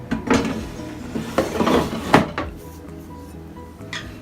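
A plastic and metal air fryer basket is handled up close, giving several clattering knocks and scrapes spread irregularly over a few seconds, with no voice.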